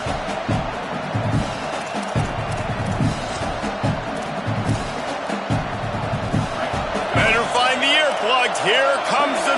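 Stadium crowd roaring in a football video game on third down: a loud, sustained roar with cheering and thuds, which swells toward the end as whoops and chants rise above it.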